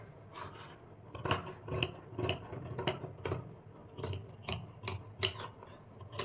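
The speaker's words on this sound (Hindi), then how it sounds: "आप इतने हिस्से की कटिंग कर दीजिए" Scissors snipping through fabric while cutting out ladies' pants, a steady series of about a dozen close, crisp rasping cuts in a quiet room.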